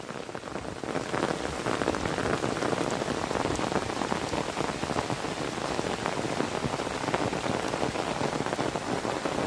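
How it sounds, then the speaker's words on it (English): Steady rain pours down in a jungle on a rainy picnic day, a dense, close, even hiss of drops striking leaves and surfaces, continuous and uninterrupted with no voices. "Today is a rainy day,"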